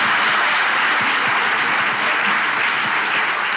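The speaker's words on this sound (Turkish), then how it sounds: "Bir alkışlayalım efendim." Studio audience at a Turkish talk show giving steady, dense applause, a continuous even roar of many hands clapping for several seconds with no talk over it.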